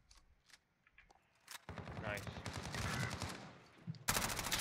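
Rapid automatic gunfire in Call of Duty Modern Warfare, quiet scattered shots at first, then a dense loud burst of sustained fire building to a sharp final volley.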